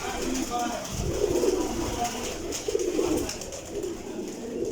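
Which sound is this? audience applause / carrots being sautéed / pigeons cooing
pigeons cooing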